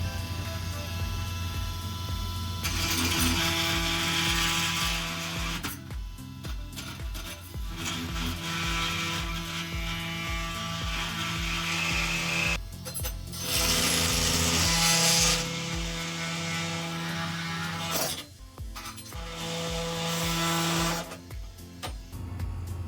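A power tool cuts through the plastic cable guide housing of a Glendinning Cablemaster on a Merritt yacht. The grinding runs steady and loud through most of the stretch, with a few short breaks between passes.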